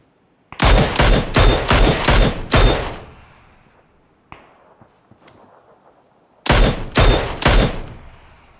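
Bursts of automatic gunfire in a PUBG solo squad battle royale match: two loud clusters of rapid shots separated by a quieter stretch with faint scattered shots and movement, no talking.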